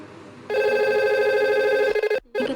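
Steady electronic ring tone from a simulated VoIP phone call in Cisco Packet Tracer, loud and sustained for about a second and a half, then breaking into short pulses with a brief gap before it resumes.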